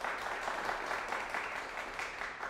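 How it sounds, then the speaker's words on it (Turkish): Applause from a comedy show audience, moderately loud, continuous clapping rising and falling gently over a couple of seconds. "Adriana Lima vizyonsuzdur diyenler alkışlasın."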